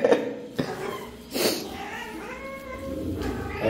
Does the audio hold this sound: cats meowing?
yes